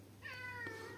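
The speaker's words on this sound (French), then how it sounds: "C'est un chat du voisin qui vient squatter" A neighbour's cat gives one drawn-out meow, clear and fairly close in a quiet room, with no talk.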